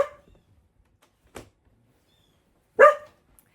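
A dog barks at home, with one sharp bark at the start, a fainter one shortly after, and a louder single bark near the end, separated by quiet pauses.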